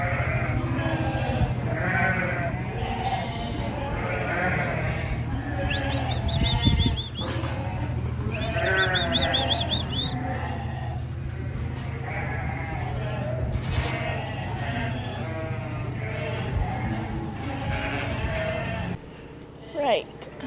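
Sheep bleat repeatedly in a pen on a farm, overlapping calls from several animals close by over a steady low hum, with a person's voice occasionally heard among them.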